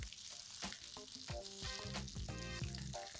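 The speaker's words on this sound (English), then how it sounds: "I'm going to cook the fish on both the sides in total of 8 minutes." Crumb-coated pomfret fish pan-frying in a pan gives a quiet, continuous sizzle, with music playing over it.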